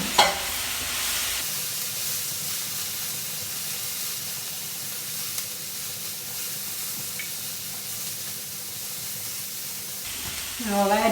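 Sliced mushrooms and a large red onion fry in a pan with a steady, even sizzle and hiss that runs throughout, close by, with brief stirring and clatter at the start and end.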